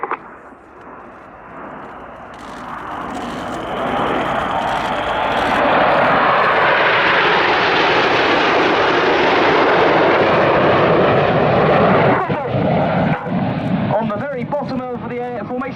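Red Arrows jets roar overhead at an air show in 2017, a loud sustained rumble that swells and holds while the nine-ship formation turns with smoke on, with a commentator talking over it throughout.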